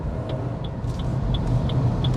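A Maruti Suzuki Grand Vitara strong hybrid SUV heard from inside during a slow U-turn: a steady low road and cabin rumble with a faint, regularly repeating soft chime, like a turn-signal tick, about every third of a second.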